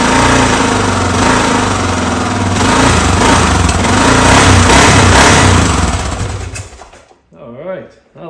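Honda XR500 motorcycle engine, a 1979–1983 model, running loud and steady with a rough, rapid beat before cutting off abruptly near the end.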